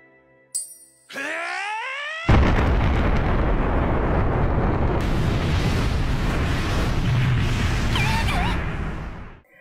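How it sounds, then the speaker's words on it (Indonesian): A sudden, massive explosion erupts after a rising whine, followed by a long, loud roaring rumble of debris that slowly fades. "Akibat efek dari ledakan yang sangat dahsyat, Luke pun terhempas cukup jauh"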